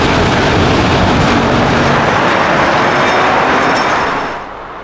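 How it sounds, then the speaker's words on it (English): A tram in Volgograd in winter rumbles steadily along the rails, a broad roar with faint rhythmic clatter, loud and close, easing off slightly at the end. "And now it functions as a tram."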